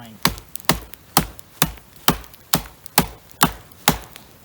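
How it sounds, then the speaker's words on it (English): A knife is driven through firewood to split it in half at a riverside winter camp, about nine sharp, evenly spaced chopping knocks, close and loud against a quiet outdoor background. "So I'm chopping the wood in half"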